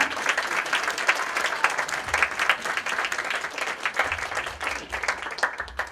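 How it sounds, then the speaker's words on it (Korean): An indoor audience at a 5.18 Gwangju Democratization Movement memorial event claps in sustained, dense applause, steady and fairly close throughout. "여러분 다시 한번 박수 부탁드립니다"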